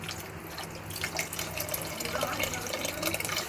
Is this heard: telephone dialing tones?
no